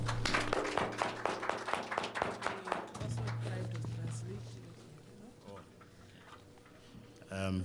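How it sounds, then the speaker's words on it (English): An audience at a panel discussion on Namibia's green hydrogen sector claps in a short round of applause, close and rhythmic at first, then fading while a low hum continues, with a voice returning at the end. "I think she deserves another round of applause."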